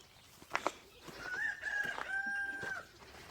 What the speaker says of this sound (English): Alright, I moved those chickens up a spot.